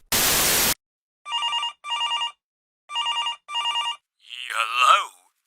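An old-style telephone rings in two pairs of bright electronic trills, preceded by a burst of static and followed by a warbling, distorted voice-like tone, loud and alone.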